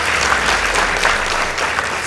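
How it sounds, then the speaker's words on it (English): Studio audience at a school debate competition between Moi Girls Eldoret and Sing'ore Girls School breaks into steady, dense applause, a continuous wash of clapping that lasts throughout. "Please give them a round of applause."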